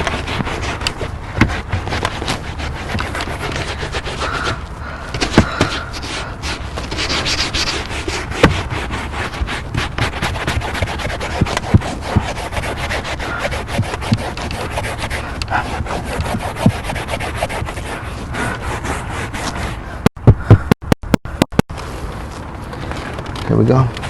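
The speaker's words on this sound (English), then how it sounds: "Go ahead and scrub here." Brush scrubbing vehicle carpet to lift dust and stains, a steady close rasping rub that runs continuously, with a few sharp knocks near the end.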